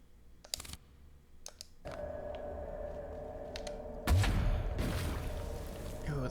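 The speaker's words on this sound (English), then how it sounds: "Okay, level 3 teapot cannon." Teapot cannon weapon firing in the video game Alice: Madness Returns: sharp mechanical clicks, then a heavy booming shot followed by a sustained rumbling blast, loud within game audio and with no talking.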